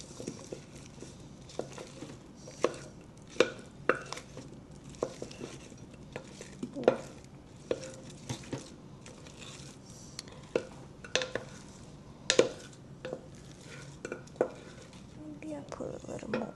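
Onions and garlic with browned beef are stirred in a pot for braised short ribs, with soft scraping and intermittent sharp clinks of the utensil against the pot at an irregular pace.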